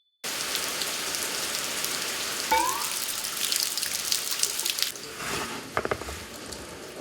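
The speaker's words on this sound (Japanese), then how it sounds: "とんでもない雨がひどいからちょっと撮影が難しいかなと" Heavy rain falls in a constant wash of spatter and drips on surfaces nearby, with a few sharper splashes and knocks breaking through the steady downpour.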